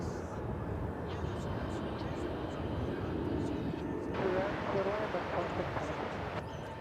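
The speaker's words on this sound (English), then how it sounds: "this is another 20th century aircraft" A 20th-century aircraft moves at DFW Airport, a steady broadband engine roar that swells and brightens partway through, heard from a distance with voices talking over it.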